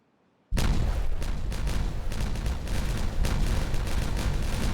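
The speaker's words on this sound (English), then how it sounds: "Let's just slow it down and enjoy the explosions." Explosions detonate in the building game Timberborn: a sudden loud blast breaks the silence, then a dense run of booming, crackling detonations rolls on for several seconds.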